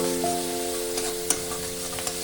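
Spiced masala sizzles in a pan with curry leaves, a steady frying hiss with a few sharp spatula scrapes and taps while it is stirred, close and with no voices.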